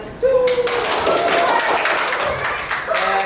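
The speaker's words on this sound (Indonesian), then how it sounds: "Oke, tepuk tangan" Students and audience at an elementary school drama performance clapping, a dense burst of many hands starting abruptly and continuing steadily, with voices and tonal sounds over the applause.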